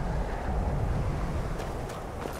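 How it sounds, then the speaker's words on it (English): Low, rushing wind in the video game Skyrim roars steadily throughout, a dense rumbling gust with faint higher whooshes near the end, no voices. "Windy."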